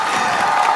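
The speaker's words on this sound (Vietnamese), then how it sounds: "Một tràng pháo tay cho các con." Studio audience at a singing show applauding and cheering for the children, a brief dense burst of clapping and shouting, loud and continuous.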